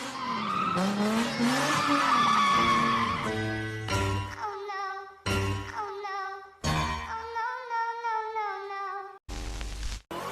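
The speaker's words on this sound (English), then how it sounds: "Drifting, but goes wrong." Car tires squealing and skidding during a drift that goes wrong, several long loud screeches in separate bursts, the first one sweeping and sustained, the later ones shorter and broken by pauses, with a thump at the end.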